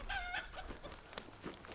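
Chickens cluck in a short burst of close, overlapping calls outdoors by a farm hoop house, with soft background noise between the clucks.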